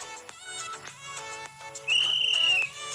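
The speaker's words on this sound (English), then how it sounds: "if you hear the whistle blow, it means it's time to go" A single sharp whistle blows for under a second over soft background music, clear and fairly close.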